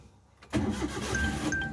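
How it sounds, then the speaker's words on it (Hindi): A Maruti Suzuki Alto 800 car engine starting: a brief quiet lead-in, then the engine catches abruptly and settles into a steady, slightly rough idle, heard up close with no talking. "करते हैं गाड़ी को स्टार्ट"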